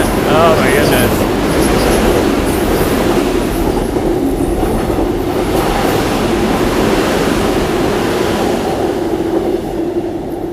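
A train rumbles past loudly in South Korea, with continuous clattering wheels, metallic rolling noise and brief squeals holding at a steady roar throughout.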